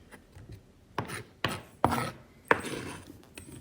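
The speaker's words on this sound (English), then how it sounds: "Getting everything chopped up." Ingredients for salmon croquettes being chopped on a board, four or five separate rasping knife strokes spaced irregularly, close and fairly quiet against a faint background.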